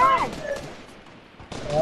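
Bots fire guns in the Fortnite video game, a burst of rapid gunfire at the start that fades, then another volley near the end, with game noise filling the gap.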